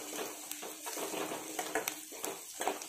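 Chopped onions and curry leaves fry in a pan for a restaurant-style mixed vegetable curry, with a close, steady sizzle broken by light scraping and stirring clinks of a utensil against the pan.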